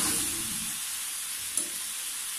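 Chicken sizzles steadily in a hot pan for homemade burgers, a close, even hiss of frying oil with a brief scrape of stirring midway.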